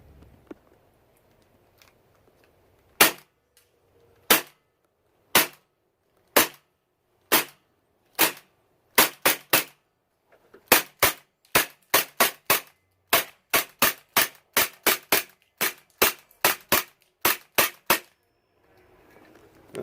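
A gun fires a full magazine, first as slow, evenly spaced single shots and then as quicker shots, about two dozen sharp close reports against near silence.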